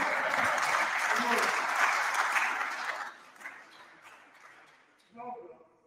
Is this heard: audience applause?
yes